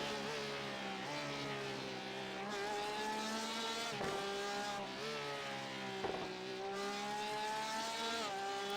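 Race car engine in iRacing with a raspy exhaust, revving hard and climbing through the gears with sharp drops at each shift, loud and close, with no talking.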